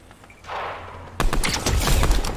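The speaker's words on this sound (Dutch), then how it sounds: "Oh, ik word ook beschoten nu." Rapid gunfire bursts in the Fortnite video game, loud and close, crackling in a dense fusillade after a brief whooshing lead-in.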